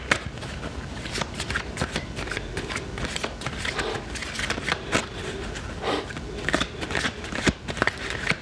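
Tarot cards being shuffled by hand, a steady close run of dense riffling and flicking bursts with occasional louder snaps, continuing without pause and with no talk over it.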